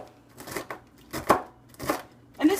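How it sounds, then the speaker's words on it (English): A knife roughly chops almonds on a board in a few uneven, separate bursts of quick cuts, with a quiet voice heard faintly in the background. "So I'm just going to give these a rough chop."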